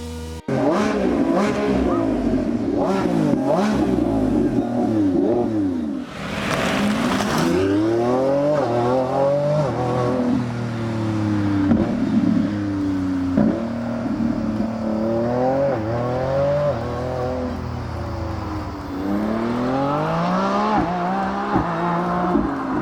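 A Lamborghini Revuelto engine in the Roblox game Driving Empire revs hard and repeatedly, pitch sweeping up and down through gear changes, with a brief squeal of tires, loud and continuous.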